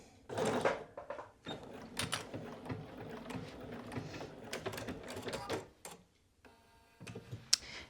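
A domestic sewing machine stitches down the sleeve of a Cashmerette Stanton hoodie, running in quick mechanical bursts with short pauses between runs, close and moderately loud.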